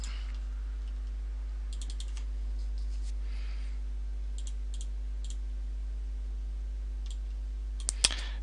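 Someone types a password on a computer keyboard: scattered bursts of light, crisp key clicks over a low steady electrical hum, ending with a slightly sharper final tap.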